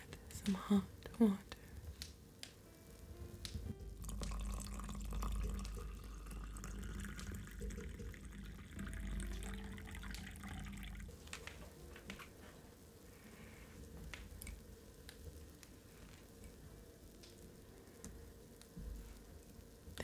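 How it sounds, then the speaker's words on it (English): Hot water poured into a pumpkin-shaped mug for a chai latte, a soft gentle stream of liquid lasting several seconds, close and quiet, with soft-spoken talk. "I'm just going to add some hot water."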